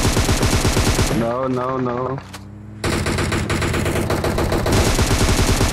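Rapid automatic gunfire in a multiplayer shooter video game, loud and close, running in dense bursts with a brief lull midway, while a voice speaks over part of it.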